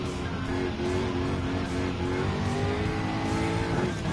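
A Jaguar F-Type Group 3 race car in Gran Turismo 7 drones with a continuous supercharged engine note at sustained revs, steady and loud without breaks.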